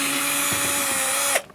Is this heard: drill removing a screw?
yes